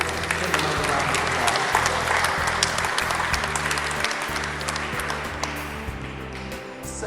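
Sustained applause from a crowd at a senior center Social Security party, a continuous patter of many hands clapping over a low hum of the room.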